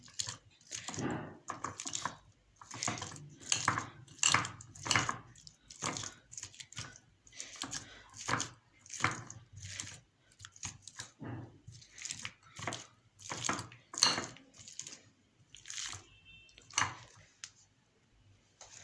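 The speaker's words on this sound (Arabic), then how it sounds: "هبدأ بقى أهرس البطاطس بالشوكة كده زي ما انتم شايفين" Boiled potatoes are mashed with a fork in a bowl, making soft, rhythmic squishing presses and light scrapes in quick repeated bursts, close and fairly quiet.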